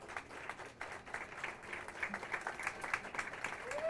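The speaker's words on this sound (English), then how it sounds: "let's give each and every one of them a nice round of applause" Soft applause from a pageant audience in a Chicago venue, a faint, steady patter of many hands clapping at a distance for the contestants, continuous through the clip.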